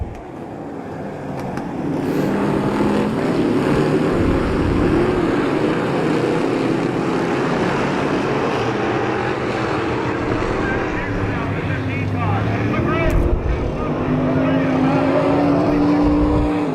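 Sportsmen modified race cars at Devil's Bowl roaring loudly together on a single-file restart, a steady dense engine drone with rising and falling tones throughout, with a commentator's voice faintly under it.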